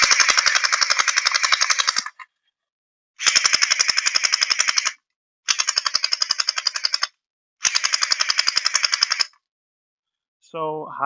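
A BIU Blaster Uzi gel ball blaster with a motorized magazine fires four rapid full-auto bursts, each about two seconds long, separated by short pauses, loud and close.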